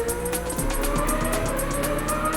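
An A1GP race car drives at speed with its engine at a sustained high pitch, while the tires squeal and scrub as it slides through a corner; loud and continuous.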